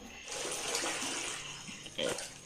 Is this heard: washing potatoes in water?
yes